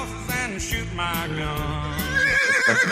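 A horse whinnies in a long, wavering neigh that rises and trembles, loud and close, used as a sound effect.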